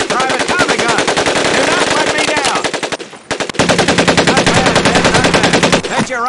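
Automatic weapons firing in rapid, loud, close bursts in a Medal of Honor Pacific Assault boot camp, two long streams of shots split by a brief pause.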